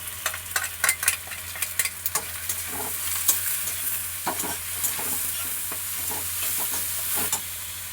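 Poppy seed and green chilli paste with turmeric, salt and tomatoes sizzles in a pan, stirred with sharp scraping strokes that come quickly at first and then space out over a steady, close fry.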